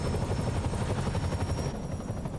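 A helicopter in the Marvel's Spider-Man video game gives a steady, loud rotor roar with a rapid chopping pulse, continuous and close, with no talk over it.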